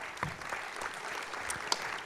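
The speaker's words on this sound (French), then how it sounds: "Vous pouvez l'applaudir." A conference audience applauds Georges Rudas, CEO of Amadeus France, at a travel industry event: brief, steady clapping from a crowd with a few sharper claps standing out.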